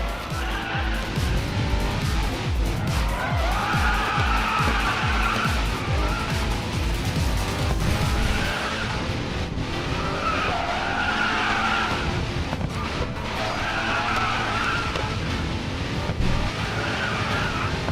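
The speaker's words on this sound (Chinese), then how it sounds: "甩尾时要记得控制方向，跑歪的时候要及时反打方向盘。" A Bugatti drifts in a racing video game with continuous loud tyre skidding and squealing over a throbbing engine note, swelling in repeated waves with no talk.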